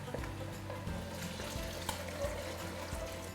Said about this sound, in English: We'll work on building this soup now by adding stock.